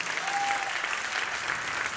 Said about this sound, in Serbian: Draga publiko, molim vas da mi pomognete jednim velikim aplauzom iskupljenja.